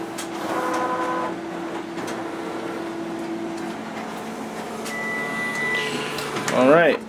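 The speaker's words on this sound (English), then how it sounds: "There we have our document feeder working properly." A Konica Minolta bizhub C360 copier's document feeder runs duplex copies, whirring and humming steadily with motor whines, rollers and a rising mechanical sweep near the end.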